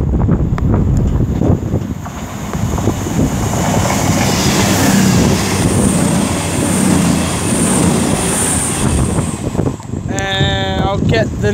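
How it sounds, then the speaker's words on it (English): A cross-country passenger train on a Plymouth to Glasgow Central service passes through Lichfield Trent Valley on the West Coast Main Line, a loud, sustained rumble and rush with wind buffeting, ending in a bright tonal whine. "now about to pass by is going to be a cross-country service from Plymouth to Glasgow Central"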